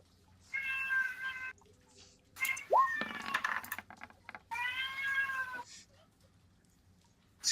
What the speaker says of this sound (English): it's definitely not that meowing